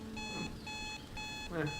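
A repeating electronic alarm rings in Hitman 2, set at a smugglers' hideout in Colombia. Steady bursts of high beeping tones repeat about every half second, with faint low game ambience and a brief muffled movement sound near the end.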